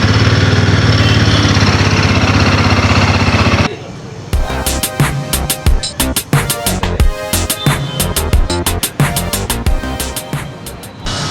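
A Royal Enfield Himalayan 452 motorcycle engine runs close up with an uneven, loud mechanical chatter, after a few seconds of steady broadband noise.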